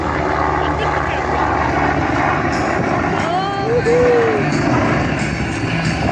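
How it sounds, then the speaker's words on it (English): A Red Bull aerobatic helicopter's engine and rotor drone loudly and steadily nearby at an air show in Camarillo, the pitch shifting as it rolls and maneuvers, with a public-address voice faintly mixed in. "Roll that helicopter around"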